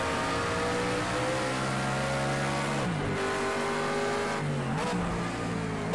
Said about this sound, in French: Allez, nouvelle attaque au freinage pour passer Bob Romano.